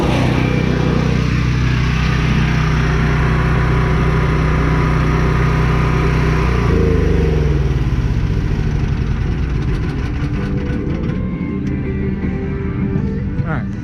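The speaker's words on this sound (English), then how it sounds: "Turn my generator off." A portable generator runs loud and steady beside a mechanic working on a vehicle, then its engine note shifts and winds down as it is switched off, with a voice talking over the droning hum.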